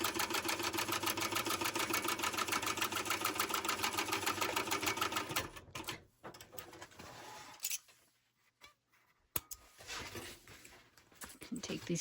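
A sewing machine runs a fast, steady stitch along a pouch seam at a 3/8-inch allowance for about five seconds, then stops, leaving quiet handling sounds and a sharp click.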